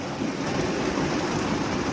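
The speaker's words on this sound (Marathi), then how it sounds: "पाऊस खूप आहे मंडळी" Heavy monsoon rain pours in a steady, dense hiss with no pauses, loud and close throughout, no voices heard.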